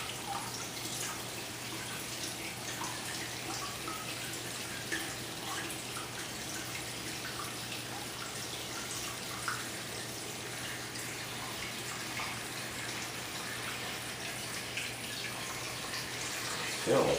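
Water pours steadily into a small Fluval SPEC 3 aquarium holding red spiderwood, a constant soft hiss and trickle that runs unchanged throughout, faint and close, with a brief clunk at the very end.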